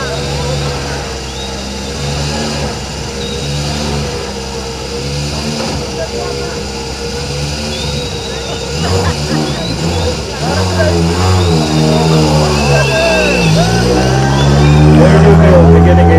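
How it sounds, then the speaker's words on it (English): A rally car engine at the Safari Rally Kenya flag-off idles roughly and then revs higher, growing louder toward the end, with a voice talking over it. "Now that's the sound of a proper rally car just about to begin his journey."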